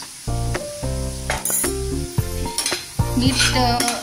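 Prawns sautéing in hot oil with turmeric, red chilli powder and salt, a steady sizzle broken by repeated spoon-against-pan stirring clatter, with tonal background music running underneath.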